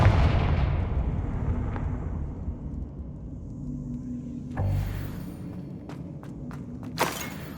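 A Confringo spell explosion from the Hogwarts Legacy video game: an opening blast decays into a long rumbling tail, followed by a few sharper bangs and crackles later, moderately loud with no speech.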